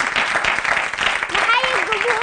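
A television studio audience applauds in a steady, close wash of clapping while a voice talks over it.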